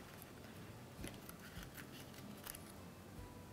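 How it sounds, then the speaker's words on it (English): Scissors trimming wafer paper for cake decorating, a series of quiet crisp snips and rustles spread through a faint steady hiss, close and soft with no talking. "I'm going to grab a pair of scissors and I'm just going to trim it away"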